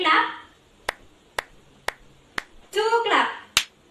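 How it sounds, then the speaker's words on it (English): A group clapping on cue during a children's storytelling session: four sharp, evenly spaced claps, then a voice speaks and one more single clap lands. "can you give me a 3 clap"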